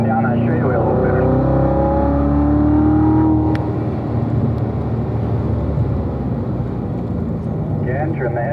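A car driving on a race track, loud sustained engine note rising in pitch under acceleration in the first seconds, then settling into a steadier drone with road and wind noise; an instructor's voice talks over it throughout.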